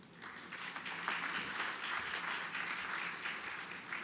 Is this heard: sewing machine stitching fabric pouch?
no